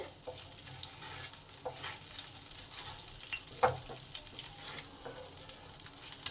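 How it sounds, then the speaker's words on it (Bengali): Green chilies, nigella seeds and a bay leaf fry quietly in oil, giving a faint, steady sizzle broken by soft stirring clicks and scrapes, with no one talking. "কাঁচা লঙ্কা কালো জিরে আর তেজপাতা ভালো করে আমার ভাজা হয়ে গেছে"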